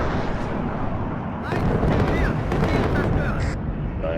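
Bombing strike explosions in the Cold War strategy game WARNO, a dense rumbling roar that swells into a louder burst of blasts midway, with faint talk mixed in.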